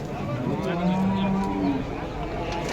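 Cattle at a busy weekly cattle market where calves are sold: a loud, close, drawn-out moo rises over the murmur of the crowd.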